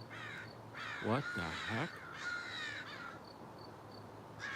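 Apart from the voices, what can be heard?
crows cawing, large flock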